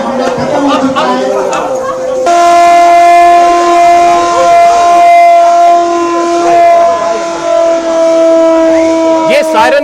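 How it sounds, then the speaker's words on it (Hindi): A civil defense siren sounds the all-clear during a test in Meerut. It starts amid crowd chatter and rises into a loud, steady, sustained wail that holds for several seconds, with voices and background noise beneath it. "मेरठ में आज ही ये जंग का सायरन बजा करके इसका टेस्ट किया गया।"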